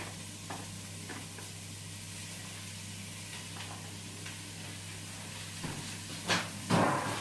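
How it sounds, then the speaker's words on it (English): Beef frying in a pan for a Thai panang curry gives a soft, low sizzle with occasional light stirring clicks and a couple of louder scrapes toward the end, no voices. "just put the beef straight in and we're gonna fry that off now."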